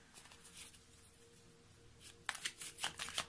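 Oracle cards being shuffled close by, soft papery riffling bursts with a quiet pause in between, then a quicker flurry of shuffles at the end, faint and without talk.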